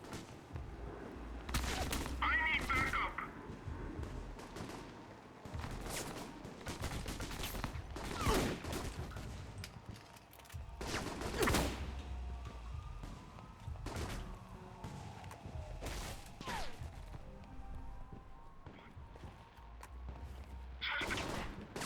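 Bursts of gunfire in the video game Alpha Protocol crack out in scattered volleys, some rapid and clustered, with loud booms between quieter stretches as fireworks go off, and a faint electronic whine underneath.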